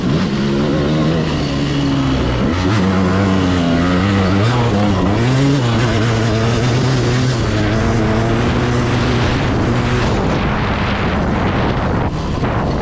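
A 1995 KTM 300 two-stroke dirt bike engine revs hard in third gear on a forest trail, a loud, close, continuous buzzing roar that rises and falls with the throttle.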